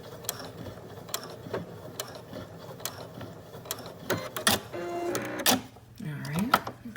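Sewing machine back stitching a seam on an elastic garment, giving short mechanical ratcheting bursts and gear clicks in an uneven rhythm, close and fairly quiet.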